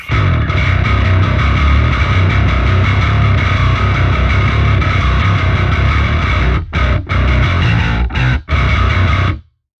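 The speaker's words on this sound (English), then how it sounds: "that's a lot of low end. And that's a lot of distortion." A heavily distorted modern metal bass guitar tone grinds loud and dense, sustained for several seconds, then breaks into a few short choppy stops before cutting off.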